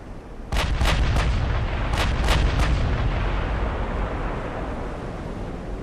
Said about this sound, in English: watch the broadside getting launched.